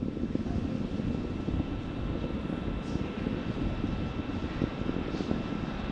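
The engines of a SpaceX Falcon 9 rocket during the Crew-9 launch ascent give a steady, distant broadband roar with a hissing, windy texture that holds even throughout.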